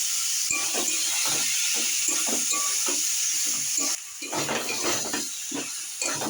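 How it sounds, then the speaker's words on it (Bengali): Young jackfruit frying with spices in a pan, giving a steady bright sizzle with repeated scraping stir strokes and a brief dip near the end, close and loud, no voices. "আমি এবারে এঁচোড়গুলো দিয়ে কষিয়ে নেবো ভালো করে।"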